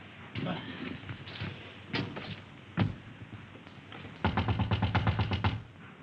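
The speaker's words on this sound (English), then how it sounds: "Can't open the blinking door." A stuck door in an old railway station compartment is rattled and banged, with scattered thumps and then a fast burst of hard knocking, while voices are heard between the blows.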